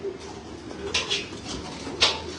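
Racing pigeons coo a few times on a rooftop, soft low calls spaced irregularly against quiet background, with a couple of brief sharper rustling or wing sounds in between.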